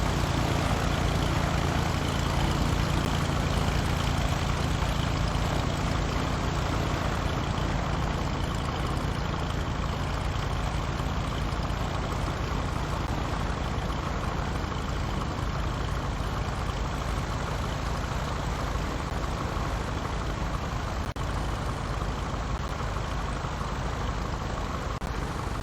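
Piper Cub light aircraft in Microsoft Flight Simulator X taxiing, its engine giving a steady droning propeller rumble at constant loudness throughout, with no voices.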